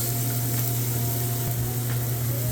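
Garlic, shallots and carrots for chicken fried rice sizzle in a pan: a loud, steady hiss close up, with a constant low hum beneath and a few faint stirring scrapes.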